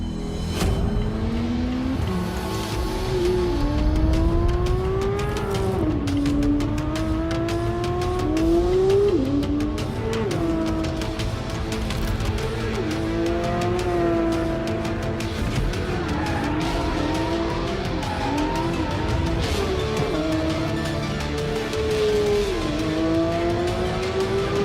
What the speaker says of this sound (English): let's have a look at the new Porsche 911 GT3 in action.